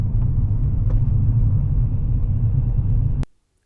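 A car cruises along a main road in third gear on a foggy morning, giving a steady low engine rumble and road noise that cuts off abruptly near the end.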